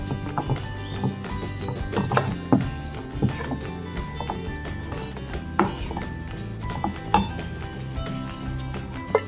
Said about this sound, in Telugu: సన్నగా ఇలా కట్ చేసుకుని కొత్తిమీర జల్లేసుకుని మళ్ళీ ఒకసారి కలుపుకుంటే సరిపోద్ది.